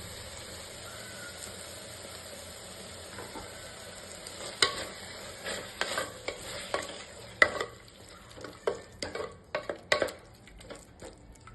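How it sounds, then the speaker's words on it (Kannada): Masala with curd frying in a pressure cooker while a spoon stirs it, a steady sizzle broken by sharp scraping and clinks against the metal pot, close and alone. "ಚೆನ್ನಾಗಿ ಫ್ರೈ ಆಗ್ತಾ ಇದೆ."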